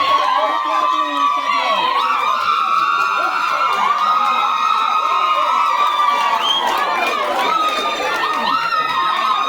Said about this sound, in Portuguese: Que torcida!